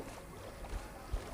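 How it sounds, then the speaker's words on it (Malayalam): Boat gliding across water in Minecraft near a mangrove swamp island, a steady low rumbling wash with two brief soft bumps, continuous and moderately quiet. "അതിൻ്റെ പ്രൊഫഷണൽ ഡ്രൈവർ ബോട്ട് ഓടിക്കുന്നതാണ്"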